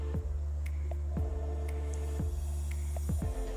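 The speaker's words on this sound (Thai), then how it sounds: "เป็นแอร์รวมแบบนี้ครับ" A central air-conditioning system in a room at The Paradiso JK Design Hotel gives a steady low hum with a regular throbbing thump about once a second, close and alone, with no voices.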